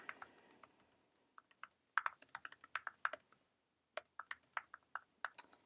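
Typing on a computer keyboard comes in quick bursts of crisp clicks with short pauses between them, close and fairly quiet, with no one speaking.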